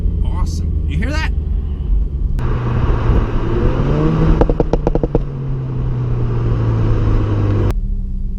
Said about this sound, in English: Oh, there was a snap, crackle, pop.